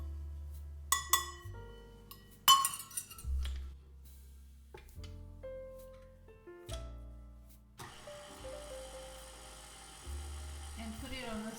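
An electric mixer on slow speed works flour into cookie dough, with low motor hums starting and stopping in short bursts among clinks and a few sharp knocks, and a steadier whirring near the end.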